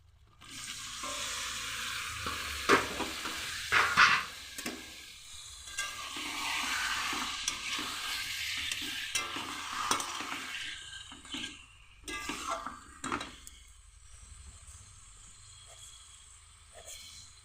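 Chicken pieces and a green chili fry in a pan for a chicken curry. Close sizzling rises and falls in bursts, mixed with the scrape and clatter of stirring, with no one talking.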